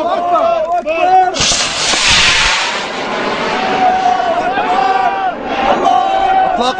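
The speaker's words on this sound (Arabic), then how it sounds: "إطلاق الصاروخ باتجاه مطار كويرس" Rocket launch toward Kuweires airport near Deir Hafer, Aleppo, a loud roaring whoosh bursting out near the start and sustained for a couple of seconds, with men loudly chanting and shouting throughout.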